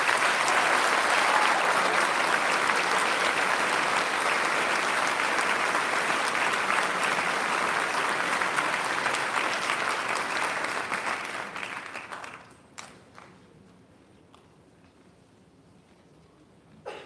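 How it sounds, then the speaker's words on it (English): Loud, dense applause from a large audience at a Catholic high school baccalaureate ceremony, a steady roar of clapping for about twelve seconds before it fades away, leaving near silence. "how about one more big round of applause for us?"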